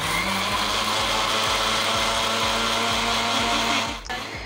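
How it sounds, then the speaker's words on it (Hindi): Electric blender whirring steadily as it purees a jamun (java plum) kulfi mixture, a loud continuous motor drone with a rhythmic thumping that cuts off just before the end. "तो ये बंद करते हैं और चलते हैं इसको ब्लेंड करने।"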